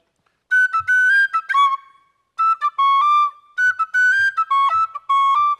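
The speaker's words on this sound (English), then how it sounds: "I'm really not used to reading music while I play whistle" A tin whistle plays a tune read from sheet music, bright and close, in two phrases of quick ornamented notes with a short pause between them.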